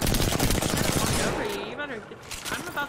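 Rapid automatic gunfire rattles in the video game Apex Legends. It is loud and dense at first, then thins into scattered shots and game effects.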